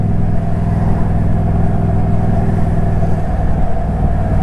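A Toyota Prius drives past, heard as a loud, steady road rumble with a low engine and tyre drone that holds constant throughout.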